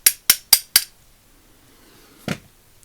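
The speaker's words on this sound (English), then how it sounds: "So let's hit it with a soft hammer," Four sharp soft-hammer blows in quick, even succession land on the snap ring of a Craftsman 99964 3/8-inch drive ratchet during teardown, followed by quiet and one later duller knock, close and alone.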